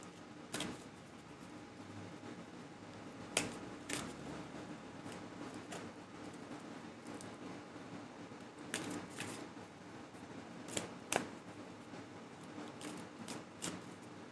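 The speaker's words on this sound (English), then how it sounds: "So I'm going to start manifesting a shuffle for you." Tarot cards are shuffled by hand at a quiet table, soft riffling and sliding with a handful of sharper snaps and taps scattered across the stretch, faint and close.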